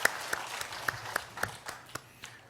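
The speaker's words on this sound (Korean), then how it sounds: "우리 하나님께 영광의 박수 올려드리겠습니다." Scattered claps from a church congregation, a handful of sharp distinct hand claps spaced apart in a quiet room rather than full applause, fading out over a couple of seconds.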